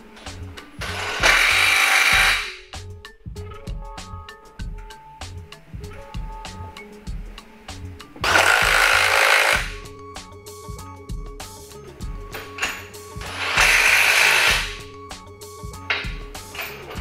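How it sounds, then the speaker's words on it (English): Three loud bursts from an impact driver tightening bolts on a skateboard mold for recycled plastic boards, each lasting about a second or two, spaced apart over a steady background hum and scattered clanks. "We're going to tighten the bolts in the same way that we loosen them, with the impact driver and the offset handle"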